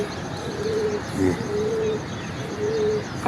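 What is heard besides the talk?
Chinese pigeon cooing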